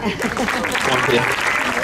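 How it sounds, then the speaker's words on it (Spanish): A burst of applause from an audience at a magic show in Terrassa fills the short moment, dense and steady clapping close by. "Gracias por los aplausos espontáneos"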